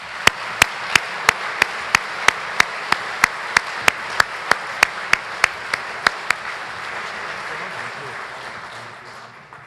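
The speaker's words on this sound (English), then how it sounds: "Please join me in a round of applause for our 2019 presenting sponsors." An audience at a formal dinner applauds the evening's sponsors, a steady wash of clapping under a loud, regular train of sharp claps close to the microphone, fading off toward the end.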